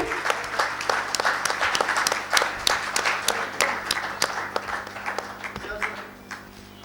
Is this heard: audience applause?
yes